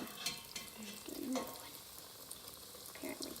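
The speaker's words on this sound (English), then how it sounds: "Place the donut in the oil and let it boil for 1 minute on each side" Doughnut frying in hot oil, giving a soft, low sizzle with faint crackles and pops scattered across the clip, quiet and close.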